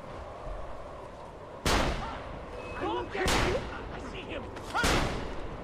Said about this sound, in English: Stop firing your gun.